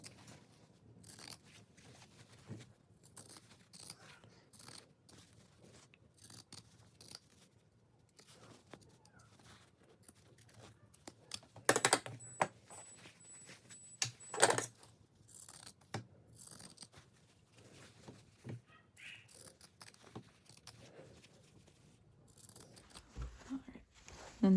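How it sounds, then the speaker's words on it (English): Pinking shears trimming fabric at the neckline of a striped seersucker dress, a long series of quiet, close snips and crisp blade clicks at irregular intervals, with a couple of louder cuts midway and no talking. "Neckline, trim with pinking shears."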